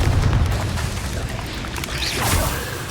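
A Confringo fire spell explosion in Hogwarts Legacy, heard as a loud booming blast with a rushing whoosh, dense and continuous.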